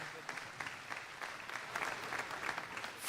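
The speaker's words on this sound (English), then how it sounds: "Let's give that a big round of applause," Audience at an Ohio State Fair youth auction breaks into steady, moderately distant applause, a dense patter of clapping lasting a few seconds.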